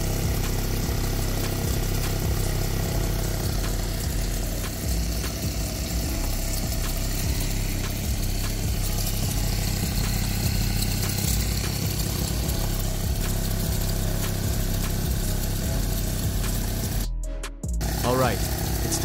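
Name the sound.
Tri-Force Extreme pulse motor running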